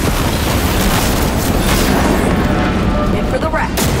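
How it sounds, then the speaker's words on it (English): A loud, rumbling explosion booms up close in the video game Cyberpunk 2077, a dense burst of blast noise with shouting voices mixed in throughout. "Hey, hit the ground! It's gonna explode!"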